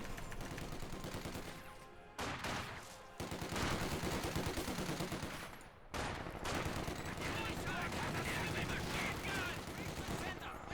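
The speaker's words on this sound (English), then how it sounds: "Got a Dushka HMG." A Dushka heavy machine gun fires in Company of Heroes 2 amid a dense, continuous battle: sustained rattling bursts and overlapping gunfire, loud and nearly unbroken apart from two brief pauses.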